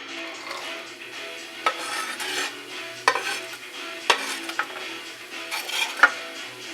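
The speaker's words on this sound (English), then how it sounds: "when your oil is hot, grab your onions and then add them to the oil" Onions frying in hot oil, a close, steady sizzle broken by several sharp spoon clicks and scrapes against the pan as they are stirred, no voices.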